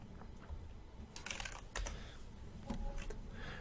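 Keys clicking on a computer keyboard while playing Farming Simulator 19, a scattered run of light taps with a few louder presses, close by and alone without talk.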